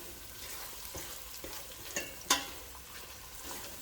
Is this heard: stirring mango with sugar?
yes